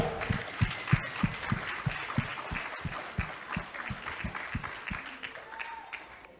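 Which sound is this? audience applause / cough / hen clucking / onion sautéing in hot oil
audience applause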